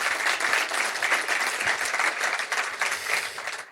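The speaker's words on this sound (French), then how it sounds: "vous pouvez applaudir Antoine" An audience at a sailing race position report show applauds sailor Antoine Lauriot-Prévost, a continuous dense round of clapping that stays fairly loud and steady throughout.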